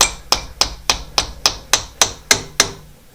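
A piston is driven into a cylinder of an air-cooled 2-litre VW engine with nine evenly spaced sharp knocks, close and clear, at roughly three per second.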